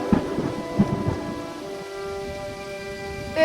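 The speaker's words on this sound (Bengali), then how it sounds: "কি টুনি তুই এই ঝড় বৃষ্টিতে এখানে কি চাই" A cartoon storm effect of heavy rain with low thunder rumbles near the start, followed by a sustained tonal hum, with a sharp burst right at the end.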